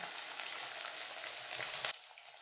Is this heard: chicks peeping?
no